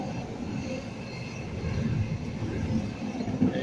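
A passenger train bound for Kiama arrives beside platform 4 at a Sydney station, a steady, moderately loud rail rumble with faint wheel noise rolling on throughout, no talk over it.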